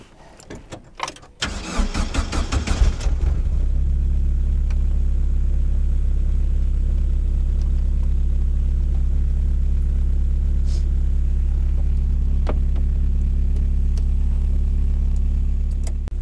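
An Indy RX-5 160 car engine cranks and catches, then settles into a loud, steady running drone that carries on for the rest of the clip.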